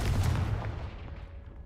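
A Confringo fire spell blast in the Hogwarts Legacy video game: a single loud, booming burst at the start that rolls off into a long, fading rumble, with no talking.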